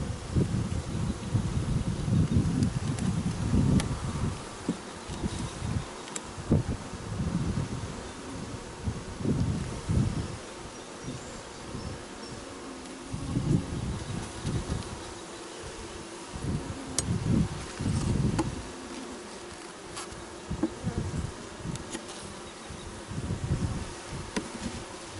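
Honeybees buzz around an open hive during an inspection, a dense, fluctuating drone of wings close to the microphone with occasional rustling and light wind, no voices.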